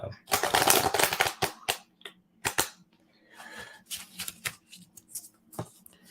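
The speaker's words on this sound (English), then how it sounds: "let me shuffle this one more time" A deck of playing cards is shuffled at a table in quick riffling bursts, the loudest flurry at the start, followed by softer scattered card handling with people talking quietly in between.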